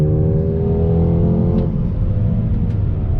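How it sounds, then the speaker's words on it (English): A 2021 Mercedes-AMG GLA 35 SUV launches hard from a standstill, its engine droning loud and rising in pitch with a steady powerful roar before easing into a rumbling pull. "from a dead stop, left foot on brake, hold down throttle, release, and we're up"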